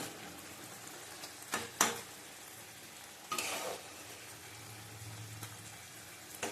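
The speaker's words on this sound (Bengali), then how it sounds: "মাছ দিয়ে আমি আর ঢাকবো না, আঁচটা কমিয়ে করবো।" Fish frying in a pan over low heat, a steady soft sizzle broken by a few brief scraping bursts of stirring, close and quiet with no talking.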